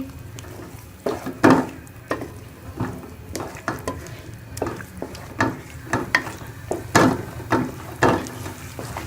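Rabri halwa with sugar being stirred in a pan: repeated scraping strokes of a spoon against the pan, with soft sizzling and occasional utensil clinks, steady and close.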